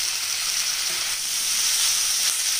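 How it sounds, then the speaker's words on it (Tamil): Blanched cauliflower hits a pan of frying masala with a loud, close, continuous sizzle and hiss that swells slightly as it settles. "நம்ம வெந்நீரில் போட்டு எடுத்து வச்ச காலிஃப்ளவர் இதில் சேர்த்துடலாங்க"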